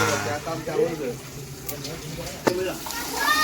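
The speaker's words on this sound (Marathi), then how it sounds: "फोडणीच करी कांद्याची फोडणी दिली." Onion tempering for a curry sizzles and crackles steadily in a hot pan, close and fairly loud, with voices talking over the frying.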